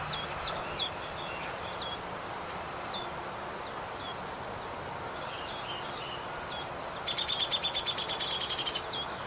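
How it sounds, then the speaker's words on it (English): A played recording of a Downy woodpecker whinny: a rapid descending run of sharp, high repeated notes near the end, after scattered faint chirps from other birds over an outdoor hiss. "That's called the Downy whinny."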